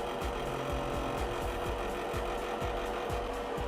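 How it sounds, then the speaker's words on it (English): A cooling fan in a Creality CR-10 3D printer control box rattles in a fast, regular ticking pattern over a steady whir, close-up and fairly quiet, with no voices. "that rattling is actually coming from that back fan now at this point"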